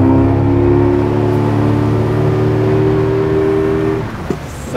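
A V4 115 hp outboard boat motor running loud and steady under throttle, a sustained droning engine tone that holds for about four seconds before dropping off, with a brief knock near the end.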